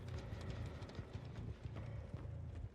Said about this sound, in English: Or am I listening to my own footsteps